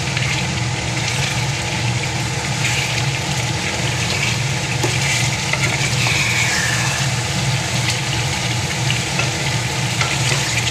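Mutton and soaked potatoes sauté in a pan over raised heat, giving a loud, continuous sizzle with a dense crackle that holds evenly throughout.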